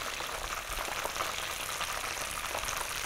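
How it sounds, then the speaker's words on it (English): Steady crackling sizzle of mushrooms deep frying in hot oil, an even, bubbling hiss with no talking. "listen to the sizzle"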